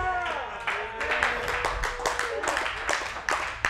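A single churchgoer claps in a sermon setting, sharp claps landing in a loose rhythm amid a speaking voice and room murmur.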